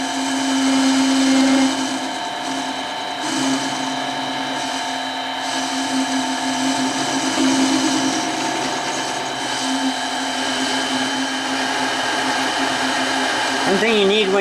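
Mini lathe cutting a replacement part for a B3 pellet gun, a loud steady motor whine with humming tones that runs unbroken throughout, its pitch shifting briefly near the end.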